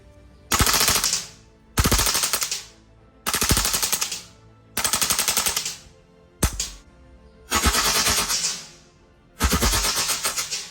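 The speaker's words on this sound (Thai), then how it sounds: "เดี๋ยวผมพาไปดูการยิงออโต้ครับ" An RWA 556-LW gas blowback airsoft rifle fires on full auto in six or seven loud, close bursts of rapid clattering shots, each burst lasting about a second with short gaps between, and no talking.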